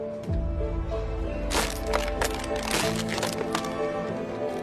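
A plastic bottle cap is squeezed and forced down inside a plastic bottle, giving close, loud crackling and crunching of the deforming plastic, with sharper snaps scattered through.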